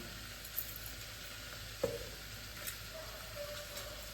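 A soft, steady sizzle of fennel seeds and coconut frying in oil, with an occasional faint tick or stir, close by and without talk.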